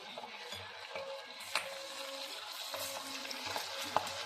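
Chilli chicken pakoda fries in oil with a soft, continuous sizzle under light scraping and stirring, plus a few faint clicks and taps near the pan, no voices.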